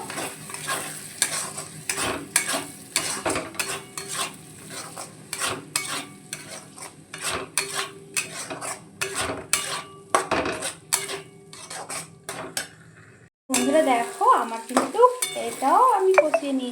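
Ground turmeric, salt, Kashmiri chilli powder, coriander and black pepper are sautéed in a pan, with a spoon clattering and scraping steadily over a sizzle that grows louder near the end.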